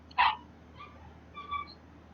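Dogs outside the house, heard at a distance: one short yelp followed by a couple of faint whining barks, quiet and brief behind the room sound, with no talk.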